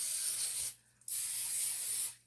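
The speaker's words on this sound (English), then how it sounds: "Give it a quick spray." A quick cooking spray is misted onto a foil-lined pan, shiny side up: two bursts of steady, close hiss with a short pause between them.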